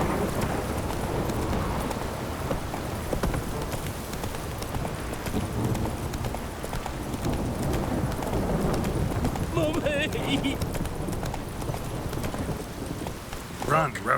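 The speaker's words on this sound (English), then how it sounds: "Run, Roach." Horse hooves galloping in The Witcher 3 video game, a steady rapid clip-clop running throughout at close range, with rain-like noise in the background and a short burst of other game sound near the end.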